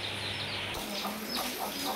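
Chickens and chicks in a village yard on a rainy day give soft clucks and brief calls over a steady hiss of rain, heard faint and at some distance with no voices.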